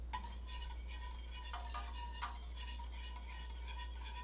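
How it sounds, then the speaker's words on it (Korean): A spoon stirring dissolved rennet into warm milk in a pot for homemade mozzarella, soft swishing strokes with a few light clinks against the side over a steady low hum. "잘 녹인 랜닛을 넣고 섞일 수 있도록 저어줍니다"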